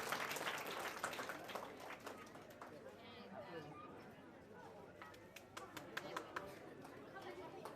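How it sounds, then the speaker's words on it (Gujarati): Crowd applause at a temple's first-anniversary festival comes in scattered bursts of clapping that fade and return, over a murmur of chatter and a speaking voice. "આપણે સૌ તાળીઓ."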